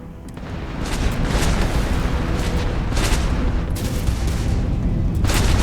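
Spaceship explosion in the Starfield video game during a piloting exam: a sustained, loud booming roar with repeated crackling bursts, continuous for several seconds with no talk.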